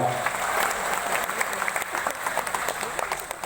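An audience at a BP Batam anniversary ceremony bursts into lively applause, with a dense patter of clapping heard close and a voice speaking faintly underneath.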